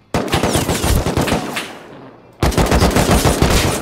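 Rapid automatic AK rifle fire in the video game Rust, shot at about 75 meters, comes as two loud sustained bursts of dense, rattling shots separated by a brief pause.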